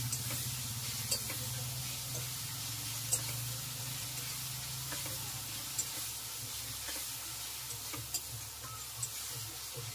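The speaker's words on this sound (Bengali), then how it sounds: "লবণ দিয়ে দেওয়া হচ্ছে যাতে পেঁয়াজটা তাড়াতাড়ি ভাজা হয়ে যায়" Onions frying in oil with salt added, for a fish sour dish, a soft continuous sizzle with a low steady hum beneath and a few faint ticks and stirring clicks, no talking.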